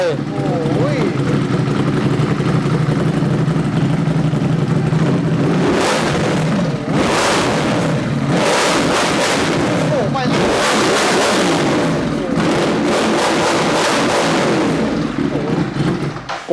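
A Ducati 821 or 797 motorcycle idles with a deep rumbling exhaust, then is blipped through several sharp revs, loud and close, with someone speaking over it at times.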